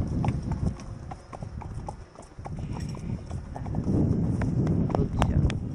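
Hooves of a horse trotting under a rider, a steady close clip-clop rhythm running throughout with faint voices in the background.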